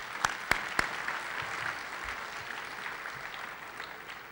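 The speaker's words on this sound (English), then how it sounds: "Some applause for them." Luncheon audience applauding students at a 2007 business forecast event, a soft, steady wash of clapping heard from a distance, opened by a few sharp nearby claps.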